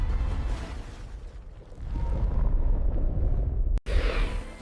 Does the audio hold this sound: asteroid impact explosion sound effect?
yes